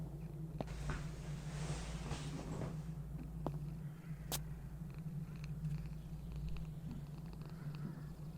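A cat's low, steady purr rumbles continuously and up close through a horror video game scene, with a brief hiss of noise near the start and a few faint clicks over it.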